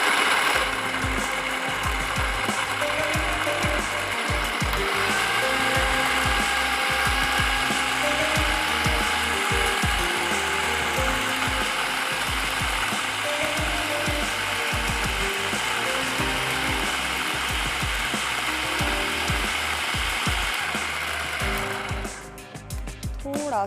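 Electric food chopper grinding minced meat with roughly chopped onion and coriander, a loud, steady whirring and clattering of blades and gears that runs almost unbroken for over twenty seconds before tapering off near the end.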